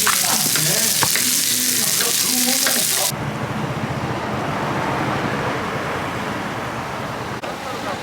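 Pork belly sizzles and crackles on a hot pan in Korea, loud at first, then a softer steady sizzle continues; faint voices murmur in the background.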